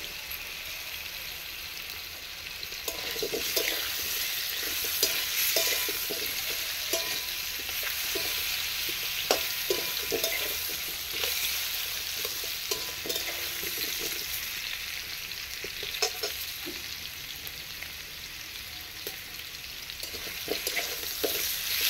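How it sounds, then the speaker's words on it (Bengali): Pumpkin pieces fry in a wok over a clay stove, sizzling steadily, with repeated scraping and stirring strokes close by and no talk. "হালকা করে ভাজা হয়ে গেছে কুমড়োটা"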